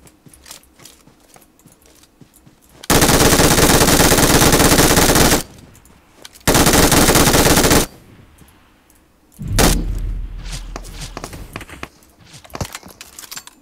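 Gunfire in the mobile battle royale PUBG Mobile: two long, loud sustained bursts of automatic fire, a brief gap between them, followed by a sharper shot and fading echoes.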